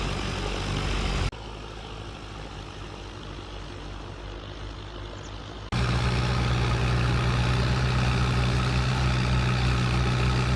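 A farm tractor engine under strain from a heavy load drones close and loud throughout, with a low steady hum that drops in level for a few seconds and then returns stronger, with no voices.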